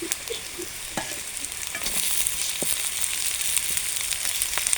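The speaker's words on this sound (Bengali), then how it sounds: "গাজরটাও ভেজে নেব।" Chopped garlic, onion and carrot frying for egg chowmein, a steady close sizzle with a few sharp stirring clicks and scrapes, continuous and fairly loud, no speech.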